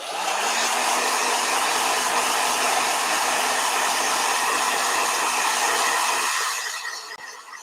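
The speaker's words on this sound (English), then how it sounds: "Blow dryer." A blow dryer runs loud and close in a steady whooshing drone with a faint motor whine, then winds down near the end.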